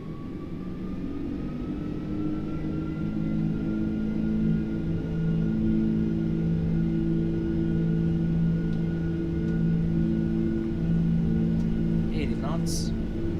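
Airbus A330-300 engines spool up for a takeoff run in X-Plane 12, a loud sustained drone with steady tonal hums and a slowly rising whine, while a person talks over it.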